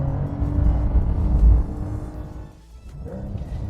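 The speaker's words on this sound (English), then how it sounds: "Listen to that engine, it sounds fantastic." Sports car engine with a sports exhaust running hard on the Norwell Motorplex racetrack, a loud, steady low rumble that dips briefly near the end before building again, with no talk over it.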